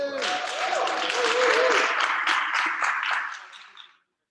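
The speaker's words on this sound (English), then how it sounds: "Can we get a cheer from the schools group" A group in a room cheers and claps at a ceremony, a broad wash of applause mixed with voices that swells, holds, and then fades out at the end.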